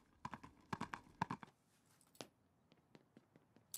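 Cartoon horse hooves clip-clop in a quick, uneven run of sharp knocks that thin out into sparser, fainter hits, fairly quiet and without speech.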